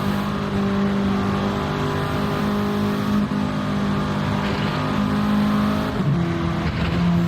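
A TCR touring car races on track with its engine droning loud and steady, pitch holding then briefly dropping and recovering near the end as it shifts up a gear; no voices.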